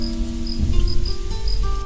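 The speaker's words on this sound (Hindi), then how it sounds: "जुलाई वाली बारिश।" July monsoon rain falls steadily with a dense, continuous patter, while faint sustained tones hum in the background.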